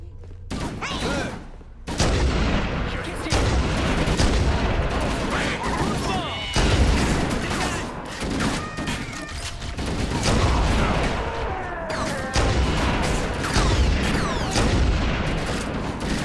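Halo: Combat Evolved gunfire fills the mix in sustained, dense bursts with booming impacts and mechanical clatter, loud and nearly continuous, with a voice speaking over the firefight.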